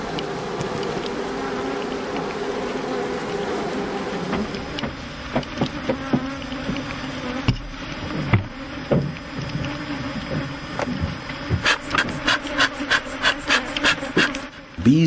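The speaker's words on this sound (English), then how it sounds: "Bees that end up on the trailer can still find their way back to their queen." Honeybees buzz steadily around frame hive supers at an African apiary, with a dense drone and closer passing bees, plus clicking and rubbing knocks growing more frequent toward the end.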